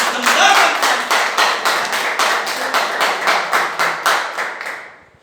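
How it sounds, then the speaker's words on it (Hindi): A crowd claps steadily and loudly in rhythmic bursts for several seconds, the applause tapering off at the end. "बजाओ दिल से एक बार जोरदार ताली"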